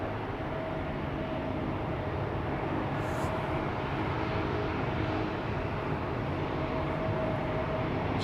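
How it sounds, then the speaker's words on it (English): Steady propeller-aircraft drone at Amsterdam Schiphol Airport, a continuous broad rumble with a faint tonal hum running throughout, fairly distant and unbroken. "Something with a propeller is making noise"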